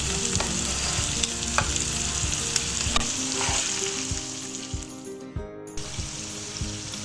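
Steady frying sizzle of garlic and ginger paste in a pan, with occasional soft clicks and stirring scrapes, close and continuous.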